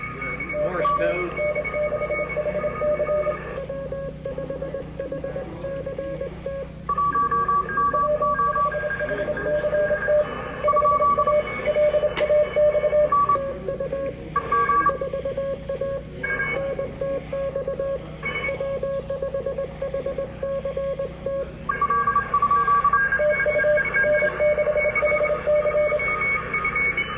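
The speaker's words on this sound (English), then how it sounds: "The Morse code." Morse code tones sent at an amateur radio field day site, steady beeping keyed signals in bursts over a constant radio hiss, with brief pauses, while people talk nearby throughout.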